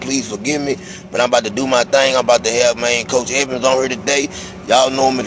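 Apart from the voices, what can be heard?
None of the usual background noises is heard.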